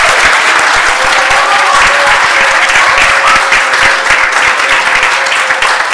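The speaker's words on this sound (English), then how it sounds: "give another round of applause for these performers tonight." Loud, sustained applause from an audience at a piano recital, dense clapping filling the whole stretch without letting up.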